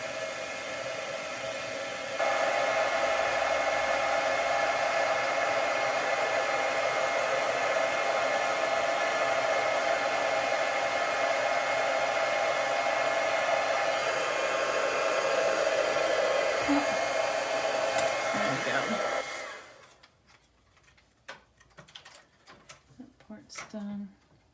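A heat gun blows hot air over a handmade greeting card, a loud, steady roaring whoosh lasting most of the span before cutting off, with faint handling noises afterward.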